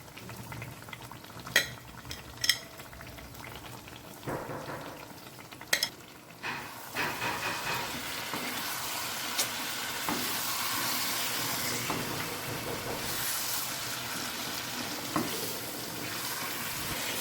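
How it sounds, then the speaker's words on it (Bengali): Raw mango pickle with crushed roasted spices is turned in a pan. A few sharp scrapes and knocks give way to a steady sizzling hiss that fills the rest, close by and with no voices. "একটু নাড়াচাড়া করে নিলাম"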